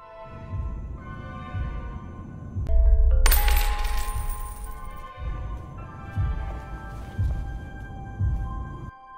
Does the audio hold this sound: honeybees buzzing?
no